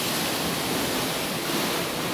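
Sea waves at Vina 4 Blue Resort beach in Carmen, Agusan del Norte, heard as a continuous, even roar of surf with no voices.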